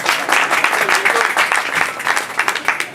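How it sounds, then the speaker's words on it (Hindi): Audience applause at an open mic poetry event, a dense continuous patter of many hands clapping steadily for the whole stretch, close and loud, with a few voices mixed in. "तो उनके लिए जोरदार तालियां।"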